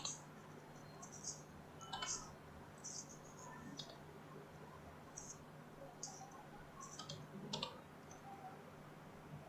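Keys tapped on a computer keyboard while entering an HRMS ID on a railway staff portal, faint scattered clicks in short bursts over a low steady hum.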